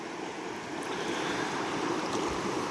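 Water of the Buffalo National River pouring steadily into a pool, a continuous broadband rush and splash that stays close and even, swelling slightly toward the end, with no voices.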